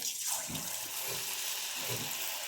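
Bok phool flower fritter batter dropped into hot oil in a kadai, a continuous sizzling hiss with soft bubbling swells as the fritters fry close up.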